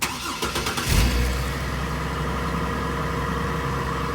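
A 2003 GMC Envoy with an automatic transmission cranks over and fires up close by, then settles into a steady, even engine rumble at idle.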